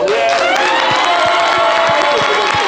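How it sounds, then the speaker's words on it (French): A studio audience at a live Ivorian variety show cheers and applauds for a local artists' association, a loud, dense wash of crowd noise with steady clapping and whoops throughout. "Vous allez vous applaudir."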